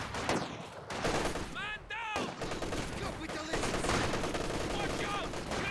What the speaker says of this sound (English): Machine guns trading blows here.